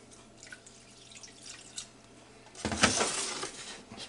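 Water is poured over kumquat seeds in a pot, starting as quiet drips and trickles and then turning into a louder, steady splashing pour that runs to the end.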